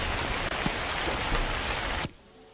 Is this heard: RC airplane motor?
no